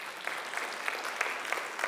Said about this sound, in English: let's give God a hand of applause for their hard work